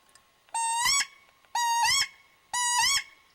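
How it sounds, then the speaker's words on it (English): A wood duck call blown three times, each a drawn-out, rising squeak lasting about half a second, evenly spaced, close and clear with no other sounds. "They call this one the wheat. It's kind of just a drawn out squeak."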